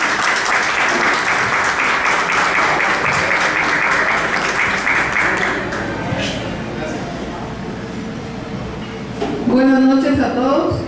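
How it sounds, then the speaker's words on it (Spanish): An audience at an evening welcome event of an association applauds loudly and steadily for several seconds. The applause thins out and a voice then begins speaking over a microphone. "Un aplauso para Leti, bienvenida."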